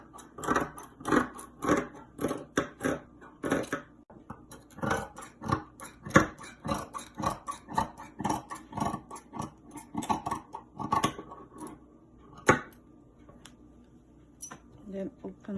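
Scissors snip through fabric to shape a kaftan dress neckline, making a rapid series of crisp cutting strokes, close and fairly quiet, with brief pauses and a few sharper clicks.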